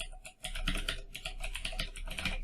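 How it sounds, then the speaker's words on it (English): Close, quick typing on a computer keyboard as a web address is entered into an SEO tool, a rapid run of light key clicks after a brief pause. There is no talking. "So you could just type in healthline.com."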